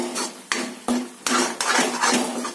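A spatula scrapes and clanks repeatedly against a pan as stuffed bitter gourd (bharwan karela) is stir-fried in oil, with strokes coming roughly every half second. The sound is loud and close, with a faint frying hiss underneath and no speech.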